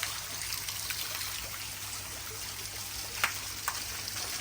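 Water sprays and patters from a sprinkler or fountain on a morning street, a steady hissing trickle with a couple of brief splashy bursts near the end.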